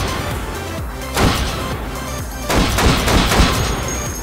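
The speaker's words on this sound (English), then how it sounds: "so we fire it from a prone position because it does not feel that bad" Rapid gunfire from a rifle shot from a prone position in the VR shooter H3VR, several loud close bursts and sharp cracks in quick succession, with no voices.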